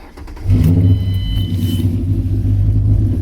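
A 2008 Ford Mustang 4.0 V6 with an idle chop mod runs close by, a loud steady low engine rumble rising after a brief quieter start, with a faint whistly sucking from the intake layered above it.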